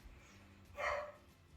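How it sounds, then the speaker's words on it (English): A dog gives a single short bark in the middle, faint and somewhat muffled, as if from another room, against a quiet background. "And there's 2 men talking outside our house and Luna's barking."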